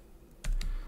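A short burst of computer keyboard typing as a terminal command is entered, two or three crisp close keystrokes at low level.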